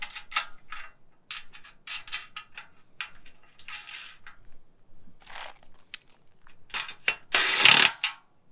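A hand ratchet bolts an F1 steering box into an early 1928-1934 Ford chassis, giving short, irregular bursts of close metallic clicking separated by brief pauses and ending in a louder, longer rasping stroke.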